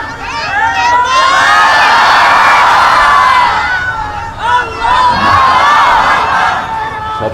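Large outdoor crowd at a daytime religious tafsir gathering in Chapainawabganj, Bangladesh, roaring and chanting slogans together in loud sustained swells, with a brief dip before the voices surge again.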